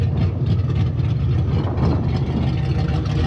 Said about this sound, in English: it's my little turbo Mustang